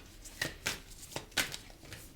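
Tarot cards are shuffled by hand in a quiet room, giving a few soft, brisk riffling bursts spaced irregularly over a faint background with no talking.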